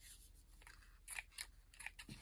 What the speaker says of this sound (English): Let's cut this.